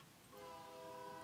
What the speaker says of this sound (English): there's a train horn going on